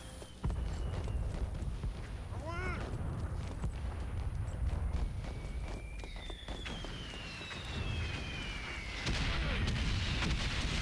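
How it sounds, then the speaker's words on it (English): Siege cannon firing in the World War I video game Valiant Hearts, heavy booming blasts amid battle noise with whistling shells, hoofbeats and running footsteps, loud and continuous with no talking. "we're gonna load a siege cannon again"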